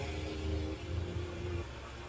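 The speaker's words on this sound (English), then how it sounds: "that whirring in the background, that is my fan going" An electric fan whirs steadily in the background, a low continuous hum with a faint mechanical drone and no other sound over it.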